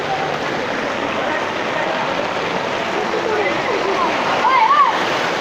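Dirty drain water in Mirpur, Dhaka, rushes past in a loud, continuous wash with no pauses, and voices can be heard faintly beneath it.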